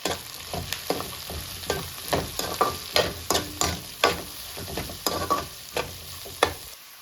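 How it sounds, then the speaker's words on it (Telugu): Green chillies and onions frying in a pan, the crackling sizzle punctuated by a rapid series of spatula scrapes and taps as the mix is stirred, close and busy throughout. "ఇప్పుడు పచ్చిమిర్చి వేసుకుందాము. అలాగే ఆనియన్స్ కూడా వేసేద్దాం. అవి మంచిగా ఫ్రై చేద్దాం."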